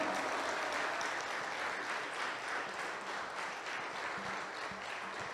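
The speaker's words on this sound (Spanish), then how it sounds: "Dale el aplauso al Señor." A church congregation applauds during a novena for the Virgin of Guadalupe in a parish, sustained clapping from many people sounding soft and somewhat distant, steady for several seconds.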